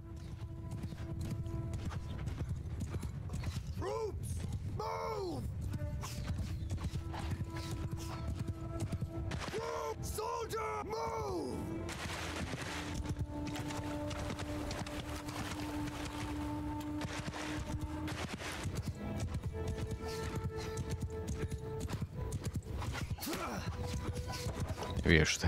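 Horse hooves of galloping horse archers in Mount & Blade II: Bannerlord, a steady clip-clop running through a busy battle mix with music and other game sounds, while someone talks over it throughout.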